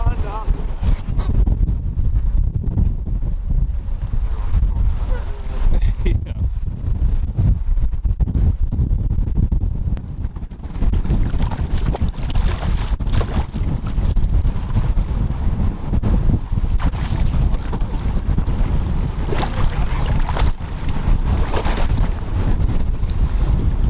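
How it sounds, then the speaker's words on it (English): Strong wind buffets the microphone in a constant, loud rush on a river while fishing for striped bass, with water and boat noise faintly beneath. "Pretty windy, folks. You might have a hard time hearing."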